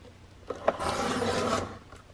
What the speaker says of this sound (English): And then I'm going to trim the bottom off, this little piece here.